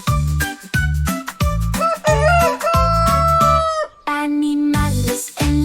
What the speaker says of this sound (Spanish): El gallo por la mañana canta su kikiriki